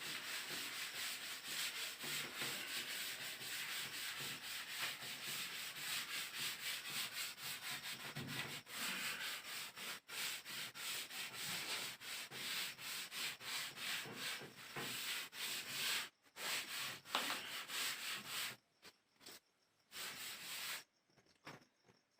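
A duster or cloth rubs steadily over a board to wipe away writing, a continuous close scrubbing that breaks into short choppy strokes with brief pauses toward the end, with no talk.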